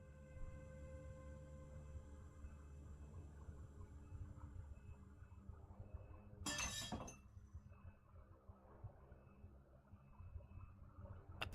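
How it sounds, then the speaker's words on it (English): Glass slides off a kitchen counter and shatters on the floor in one sharp crash amid faint steady room noise, followed by low rumbling. "A piece of glass slides off the counter and shatters on the floor."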